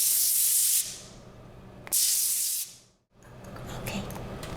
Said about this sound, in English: I'm gonna use some spray.